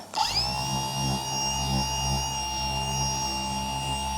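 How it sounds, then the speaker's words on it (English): A steady, whining hum of a polisher used as a sanding machine on speed 1 runs continuously at close range, an electric motor spinning at constant speed with no voices. "polisher as a little sanding machine"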